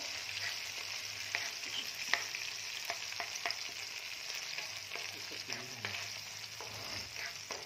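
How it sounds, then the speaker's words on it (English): Garlic chili paste for butter paneer masala fries in a pan with a soft, steady sizzle, punctuated by several sharp spoon taps and stirring scrapes, and no talking. "Just make it fry, garlic chili paste, make it fry for 1 minute."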